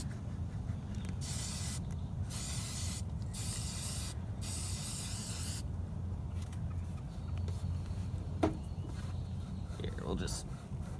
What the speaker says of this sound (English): Spray it on there thick, spray it on there